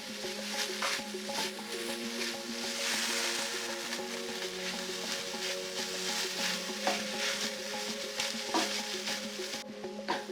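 Vegan jackfruit quesadilla filling is stirred in a hot pan, with soft scraping and stirring strokes over a steady, quiet sizzle of frying, and no voices.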